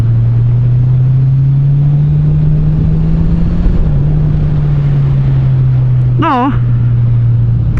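A Kawasaki Z1000SX motorcycle cruising at a steady pace, its engine holding an even low drone beneath constant rushing wind noise, with a brief higher whine near the end.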